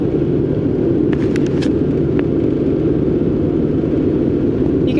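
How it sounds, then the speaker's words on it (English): Helicopters flying overhead outdoors, a steady loud low rotor and engine rumble that fills the whole clip, with a few brief faint higher clicks or chirps on top. "Those are helicopters."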